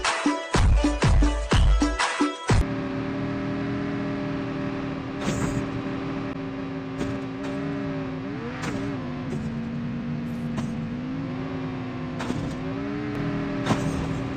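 A car driven in the Call of Duty Mobile video game: a steady engine drone with shifting pitch runs continuously, preceded at the start by a few sharp, loud bursts.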